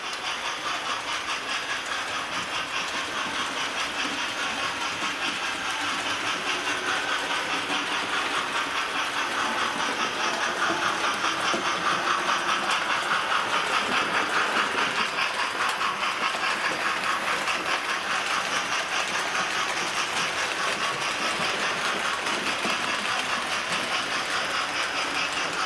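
A model railway A4 locomotive, Golden Eagle, rumbles steadily up an incline on the track with a continuous light clatter, getting a little louder midway as it draws closer, with no voices.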